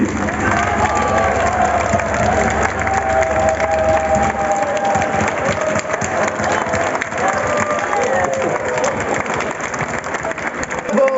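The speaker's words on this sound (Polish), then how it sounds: "Pożegnajcie ich brawami, na które zasłużyli!" Audience in the hall of the Szczecin Philharmonic applauds and cheers a band after a dance event, a dense, loud, steady wash of clapping and crowd noise with some voices mixed in throughout.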